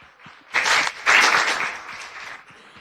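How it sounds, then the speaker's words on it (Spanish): A burst of applause from a small audience at a school guidance training session rises twice in quick waves and then tapers off. It is short and fairly close. "Aplauso."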